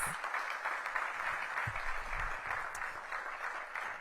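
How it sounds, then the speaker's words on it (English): At a public meeting on downtown Washington's Gallery Place Chinatown area, the audience applauds the task force with a soft, steady wash of clapping that stays moderately distant throughout. "Give them a big round of applause."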